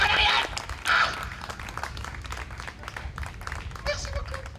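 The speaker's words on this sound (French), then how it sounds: "On applaudit!" Audience applause at a summer street entertainment show in Baie-Saint-Paul, a burst of clapping rising at the start and again near one second, then a steady crowd murmur with shouting voices over it.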